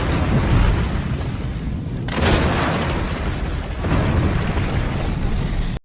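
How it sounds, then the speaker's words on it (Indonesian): A fuel warehouse blowing up in an animated war scene of Indonesian fighters against Dutch troops, a long loud rumbling roar with a fresh burst around two seconds in and another swell near four seconds, then cut off abruptly. "Thomas berhasil meledakkan gudang bahan bakar."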